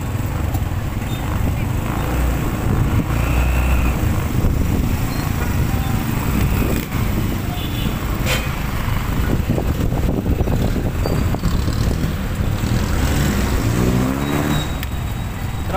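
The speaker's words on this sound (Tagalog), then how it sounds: "Traffic ah." Small-town road traffic in Candelaria, Quezon streams past with continuous engine noise, passing vehicles and occasional higher tones, a busy steady wash with some horse-like clip-clop and whinny mixed in.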